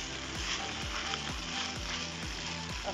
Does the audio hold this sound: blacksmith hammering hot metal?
no